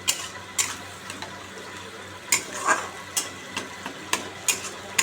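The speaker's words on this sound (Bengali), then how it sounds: "তারপর ওই দইটা আমি ফাটিয়ে দিচ্ছি ভালো করে" Yogurt being beaten hard in a bowl for a katla fish curry, sharp scraping clicks of the utensil against the bowl in an uneven rhythm, close and fairly loud over a soft background hiss.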